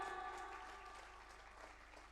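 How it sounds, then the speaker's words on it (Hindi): Faint, steady clapping from an audience at a live foundation award ceremony, continuous and fairly even, heard at a distance with a low background hum. "जोरदार तालियां।"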